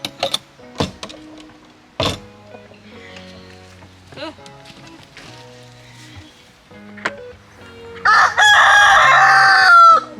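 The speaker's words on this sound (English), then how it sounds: "let's get these chickens out" Hens clucking and murmuring close by at morning on a farm, with a rooster crowing loudly near the end; a person speaks briefly in between.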